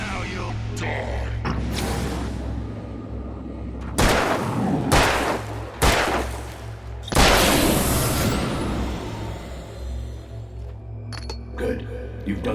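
Gunfire in Alan Wake rings out as several loud, sharp shots spaced a second or two apart, each followed by a rolling boom, over a steady low drone with some dialogue in the background.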